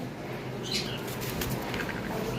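Cockatiels at a breeding farm give brief, faint chirps and calls over a steady background hum, with a few short whistling notes and some soft rustling, somewhat distant.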